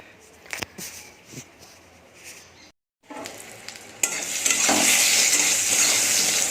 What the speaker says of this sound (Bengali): এই যে দেখো পটলটা ভাজা হচ্ছে।